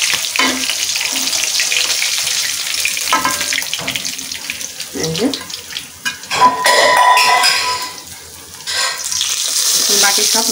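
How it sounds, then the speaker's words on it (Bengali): Rayna (Veda) fish pieces frying in a pan, a loud, dense hiss of bubbling oil that swells and eases, with occasional clatter of utensils nearby. "বাকি সব মাছগুলো আবার ভেজে নেব"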